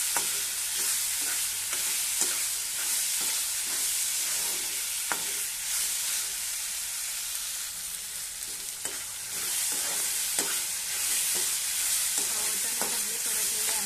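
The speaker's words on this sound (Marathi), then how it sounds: "सगळे असे छान तेलामध्ये परतून घ्यायचे आपल्याला।" Peas and vegetables sauté in hot oil with a steady sizzle, close up, while a spoon stirs and scrapes the pan in repeated soft clacks. No one speaks.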